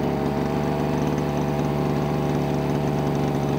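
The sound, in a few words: lawn mower engine idling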